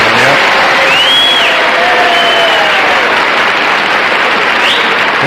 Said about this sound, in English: That applause when he comes in is amazing.